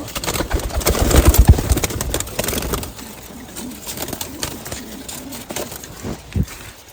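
Pigeons feed and coo nearby after being given water mixed with deworming medicine. The soft, rolling coos come with fluttering and shuffling, busier at first and then thinning out.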